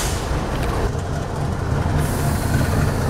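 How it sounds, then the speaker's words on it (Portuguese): A new-model ES43BBI diesel locomotive on a Brazilian railway rumbles close by, a loud, steady, low engine drone with broadband rolling noise throughout. "Só o novo modelo aí de locomotiva"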